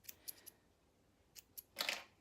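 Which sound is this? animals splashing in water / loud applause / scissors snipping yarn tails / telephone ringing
scissors snipping yarn tails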